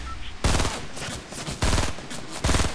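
Rapid automatic gunfire in the video game Fortnite, three loud, close bursts of shots separated by short pauses.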